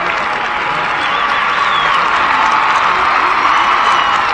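Audience applause at a saxophone performance event, a dense continuous wash of clapping from a crowd, steady and fairly loud throughout with some cheering mixed in.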